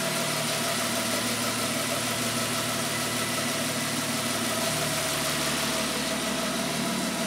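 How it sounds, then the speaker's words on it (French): Renault 5 Maxi replica engine running stationary, a steady loud idle with a low rumble and faint whine as the turbo builds pressure, continuous with no voices. "Quand le turbo il monte en pression là, c'est un truc de ouf"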